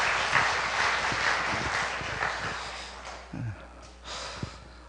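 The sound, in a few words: congregation applause of encouragement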